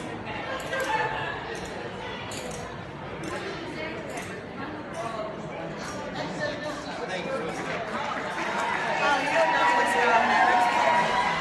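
A large crowd welcoming veterans home from an Honor Flight trip to DC, a steady wash of cheering and chatter that swells louder toward the end, with voices talking throughout.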